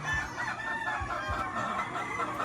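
Hens cluck at feeding time on a Filipino farm, a busy overlapping chorus of short clucks and calls, fairly close but moderately quiet.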